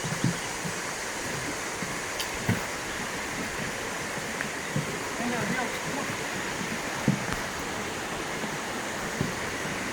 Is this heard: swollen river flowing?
yes